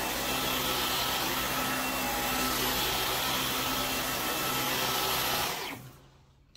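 A household vacuum cleaner running in normal mode rather than turbo, a steady loud whine and roar that holds for several seconds, then cuts off as it is switched off near the end.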